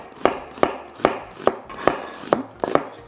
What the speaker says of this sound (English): let's chop onion